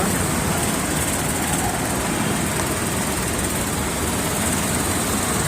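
Farmers' tractor parade on Republic Day in Bathinda: a continuous broad roar of tractor engines and road noise, even and unbroken throughout, with no clear voices.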